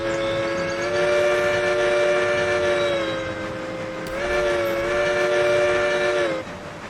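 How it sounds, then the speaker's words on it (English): In the Shortline Simulator train game, a locomotive whistle sounds for a bridge: two long, loud chime blasts back to back over steady rail rumble, with no voices. "Let's blow the whistle for the bridge."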